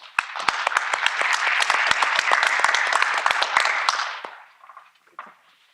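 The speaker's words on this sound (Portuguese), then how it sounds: "uma salva de palmas" A burst of loud, dense applause from many hands fills a conference room at a geosciences round-table for about four seconds, then fades, and a voice begins speaking.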